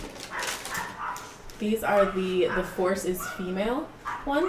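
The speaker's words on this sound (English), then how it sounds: "Sorry if you guys hear dogs barking." Dogs bark and yip outside through an open window, with several short, uneven calls heard under a person talking continuously indoors.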